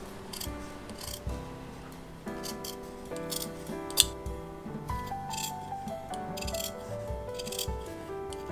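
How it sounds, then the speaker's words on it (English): Scissors snipping through the wool fabric seam allowance of a sewn hat, a steady run of close, crisp cuts and rustles, with soft musical tones beneath and no talking. "I'm going to cut one of the seam allowances shorter than the other one."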